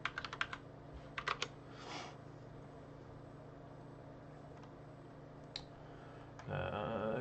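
Loud computer keyboard typed on in quick clattering bursts of keystrokes, close up, with pauses between runs and a brief voice at the very end.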